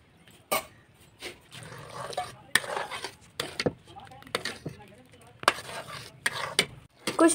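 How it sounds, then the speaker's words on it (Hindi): A mixture cooks in a pot on a home stove, with intermittent scraping and clinking of a spoon stirring and a soft sizzle underneath, close and fairly quiet. "कुछ देर के बाद अब ये उबलने लगा है।"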